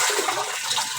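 Water rushes and gurgles in a kitchen sink in one loud, continuous surge lasting about a second.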